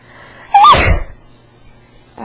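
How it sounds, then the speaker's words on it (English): A single loud, close human sneeze bursts out after a quiet sharp intake, then fades into room quiet, alone without speech. "I have to sneeze, I can feel it."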